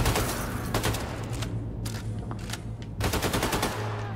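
Rapid gunfire from the video game Wolfenstein 2 The New Colossus, dense bursts and single shots running throughout with brief gaps, loud and close over a low game rumble.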